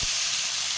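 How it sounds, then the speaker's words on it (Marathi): Water hits a hot mustard-seed and green-chilli tempering in a pan, bursting into an instant loud, steady sizzle that hisses evenly throughout, capped by a faint clunk at the very end. "आता पाणी टाकून घ्यायचं आपल्याला."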